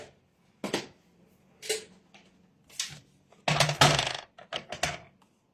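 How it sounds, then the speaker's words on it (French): Paper being cut by hand for a pop-up flower card, a series of short crisp snips and rustles close by, sparse at first and then a denser burst. "Alors, on va couper ça."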